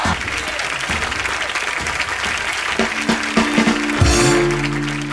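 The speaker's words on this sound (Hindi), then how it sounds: "प्लीज जोरदार तालियों से स्वागत कीजिए सुनीता जी का।" A studio audience claps loudly and continuously in welcome, a full, sustained burst of applause that swells toward the end, with a brief musical sting rising over it.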